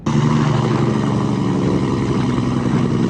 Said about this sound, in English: What that truck is doing is something called compression braking, or using its Jake brake.